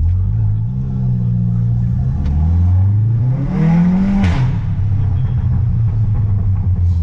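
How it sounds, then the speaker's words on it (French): A car with factory electronic exhaust valves set to sport mode, running nearly straight-through, revs up close by, its engine note climbing and sweeping to a peak around the fourth second before settling back into a steady, loud rumbling idle. "Donc, je passe limite en échappement libre."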